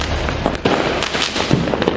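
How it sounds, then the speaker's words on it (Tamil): Diwali firecrackers and fireworks burst in Karur district, Tamil Nadu, as a dense rapid crackle of overlapping pops and bangs that keeps going across the whole short stretch. "பொதுமக்கள் உற்சாகமாக பட்டாசுகள் வெடித்து தீபாவளியை கொண்டாடினர்"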